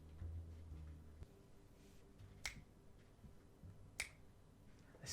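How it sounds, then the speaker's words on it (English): Two sharp finger snaps, a few seconds apart, crisp and fairly close against a quiet background with faint low music underneath. "snapping my fingers to the smooth jazz band that I hired to play in my office."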